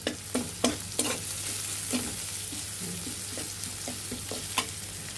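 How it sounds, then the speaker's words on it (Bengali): Onions fry in a pan with a soft, steady sizzle, broken by periodic scraping strokes of a spatula stirring them. "আমাদের পেঁয়াজ ভাজা হয়ে গিয়েছে"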